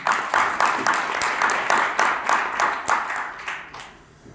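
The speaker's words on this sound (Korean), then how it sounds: "박수로 맞이해주십시오" An audience at an international fair-election forum welcomes a pastor to the stage with applause that comes in regular, rhythmic bursts, moderately loud and fading toward the end.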